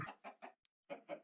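Minecraft Bedrock chickens cluck in short bursts, three quick clucks, a pause with a tiny tick, then two more, quiet and alone without talk.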